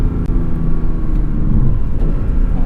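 A 2021 Porsche 718 Cayman GTS with a 4.0-liter flat-six and six-speed manual gives a deep, loud engine rumble from inside the car during a rev-matched downshift. There is a brief throttle dip and the drone holds steady.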